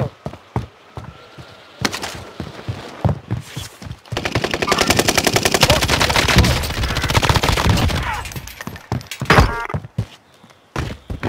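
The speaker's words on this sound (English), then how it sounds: "I'm taking fire here." Rapid automatic gunfire in Call of Duty: Warzone, loud bursts of rifle fire and heavy thuds dominating the middle stretch, with scattered sharp single shots before and after.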